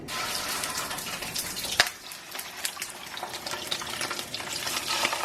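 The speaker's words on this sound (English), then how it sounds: "the pork and the sausage is going to go in a frying pan with a small amount of olive oil, and it's going to get fried" Pork and sausage frying in a pan with a small amount of olive oil: steady close sizzling and crackling with occasional sharp pops and utensil clinks, no talking.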